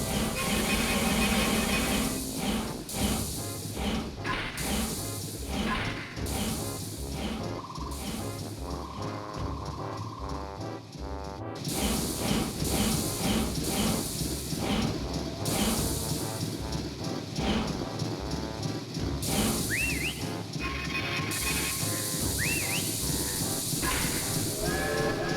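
A train is called and pulls in inside a video game, running on tracks made of dinosaur bones, with continuous dense hissing, chuffing and rhythmic clatter blended with game music across the whole stretch, loud and unbroken.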